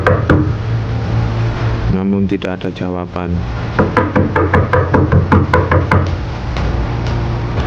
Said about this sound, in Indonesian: bersama seorang cleaning service berusaha mengetuk pintu kamar